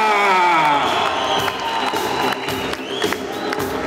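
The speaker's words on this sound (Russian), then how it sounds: "под ваши бурные аплодисменты." A crowd of fans at a public meet-and-greet with a champion fighter in Bishkek cheers, whoops and claps loudly and continuously, with shouting voices mixed into the dense applause.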